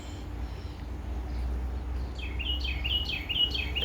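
Birds on a sunny day chirp in short, repeated high tweets that grow busier in the second half, heard at moderate distance over a low outdoor hum with no talking.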